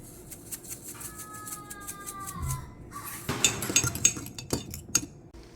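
Sardine rice (locrio de sardinas) being turned over in a cooking pot, with scattered scraping and clinking of a utensil against the pot that grows busier and louder toward the end, over faint background noise.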